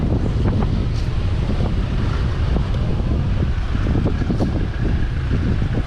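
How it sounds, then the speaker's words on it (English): Gusty wind on a beach in Pattaya, Thailand, ahead of a storm front, rumbles against the microphone in a steady rush, with a faint wash like distant surf underneath. "It's a bit windy today."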